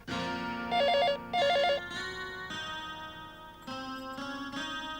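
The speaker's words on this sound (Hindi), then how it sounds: "रवि का फोन है।" A telephone rings in two bursts of a bright warbling electronic tone. It sits over continuous tonal background music in a Hindi TV drama scene, and no one speaks.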